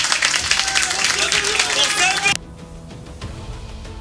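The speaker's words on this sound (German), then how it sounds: "Riesenapplaus" Loud audience applause and cheering at a German rap battle final, dense clapping that cuts off abruptly partway through, leaving a quieter room with faint talk.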